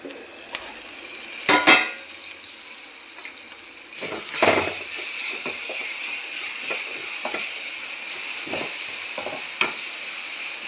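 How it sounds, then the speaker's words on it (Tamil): Tomatoes sautéing in a pan for a Tamil home-cooked dish, a steady close sizzle with occasional scraping stirs and clatters of the spoon against the pan. "வதங்கிட்டுருக்குங்க. இன்னும் கொஞ்சம் நேரம் வதங்கட்டும்."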